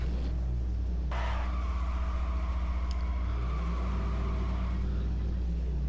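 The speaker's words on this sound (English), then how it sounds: "let's enjoy some gas station sounds" Steady low engine rumble at a gas station as cars idle and roll past, with a vehicle swelling in closer around the middle and fading again, constant and fairly loud with no talking.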